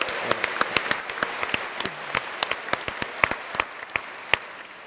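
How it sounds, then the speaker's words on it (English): An audience at a debate event applauds steadily, many hands clapping in a dense, crackling wash that holds evenly throughout. "So you all deserve a round of applause,"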